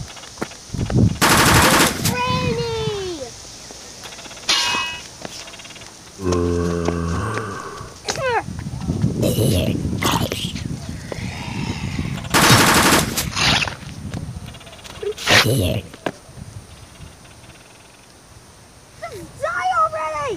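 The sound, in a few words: shotgun firing in a zombie video game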